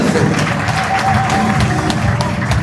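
A church congregation clapping and cheering in praise, loud, continuous applause close by with voices mixed in.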